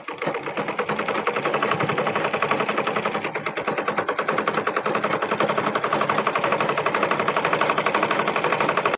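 A sewing machine stitches a seam on a blouse piece, with a steady rapid mechanical chatter running continuously and fairly loud and close, with no one talking.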